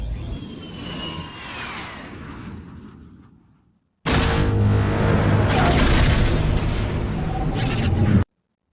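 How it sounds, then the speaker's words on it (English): Seismic charge detonation from Attack of the Clones: a low rumbling swell with a tearing sweep that fades, then after a second of silence a loud, dense, sustained roaring blast that cuts off abruptly. "here's a clip of the seismic charge going off in Attack of the Clones"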